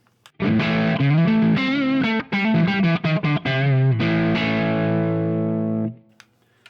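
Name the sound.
guitar overdrive pedal mimicking Marshall amp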